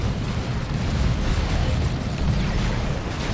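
Plasma cannon explosions from a Warhammer 40,000 video game hitting a group of Hormagaunts, a dense, continuous roar of booming blasts that stays loud and steady throughout.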